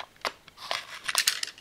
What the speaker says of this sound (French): je prends le cutter